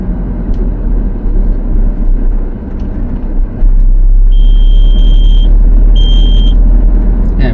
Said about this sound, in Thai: ลาเข้าโค้งหน่อย GPS ติดเตือนเลย